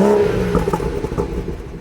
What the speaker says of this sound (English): some nice bubbling there from the exhaust